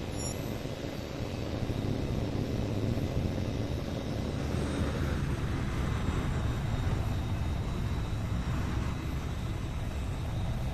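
Steady, droning jet engine roar of a fighter plane in the flight game Tom Clancy's H.A.W.X. 2, continuous and even throughout with no voices.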